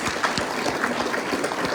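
A crowd applauds at the 2023 closing ceremonies and marathon awards for a sled dog race: dense, steady clapping that holds at an even level throughout the short stretch, with no clear voices above it.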